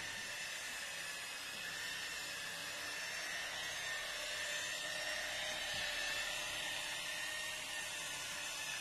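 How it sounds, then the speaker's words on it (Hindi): A buffing machine polishes PU paint with rubbing compound, producing a steady high-pitched whirring hum with faint hiss, constant and unbroken throughout, with no talk. "इस पर भी हमने सेम जो है मशीन से ही बफिंग की है"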